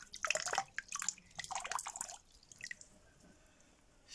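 Water drips and trickles while one of the holes of a small toy steam boat is filled, with irregular close splashy drops that fade to quieter scattered drips.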